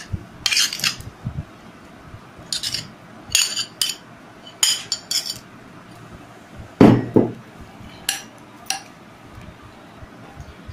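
Hilsa fish pieces set one by one into a cooking pot for steamed hilsa, giving scattered light clinks and soft knocks of utensil against metal, with a louder clatter partway through and no talk.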